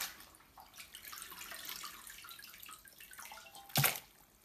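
Pork caul fat being rinsed under running water: soft, uneven splashing and trickling from a tap, fairly faint, with a sharper splash near the end.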